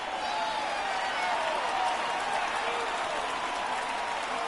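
A baseball crowd rises and applauds on a full 3-2 count, a dense, steady roar of clapping and cheering that holds loud and even from start to finish.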